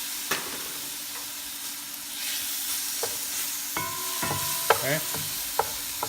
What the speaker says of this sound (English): Now let's fry our shrimp